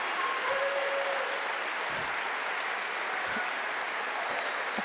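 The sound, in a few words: audience applause for speaker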